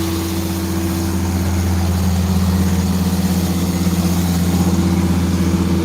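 An International 9130 truck engine runs steadily at high idle, a loud, close, continuous low drone with a constant hum and no pauses.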